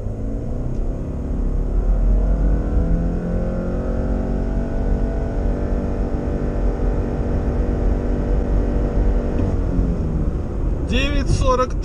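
A 2021 Subaru Outback with a CVT and 188 hp accelerates hard from 0 to 100 km/h, its engine drone holding a steady, continuous rising note under road rumble throughout, with a brief burst of sound near the end.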